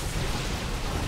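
A dense, booming cannon explosion in a StarCraft II: Legacy of the Void game rumbles throughout, a sustained blast with heavy low-end and crackling noise.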